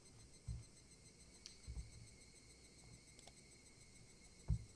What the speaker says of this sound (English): The cicadas, they really are crying